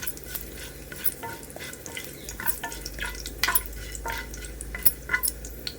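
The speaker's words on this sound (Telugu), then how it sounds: "ఫస్ట్ వేసుకుని కాస్త కలర్ వచ్చేంత వరకు ఫ్రై చేసుకోవాలి." Cumin and fenugreek seeds fry in hot oil for an onion chutney, giving a steady close sizzle broken by scraping stirs and small clicks of a spoon against the pan.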